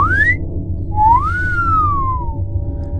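A person whistles in imitation of an eerie whistle heard from an empty field: a short rising note, then a longer tone that rises and slowly falls, clear and close.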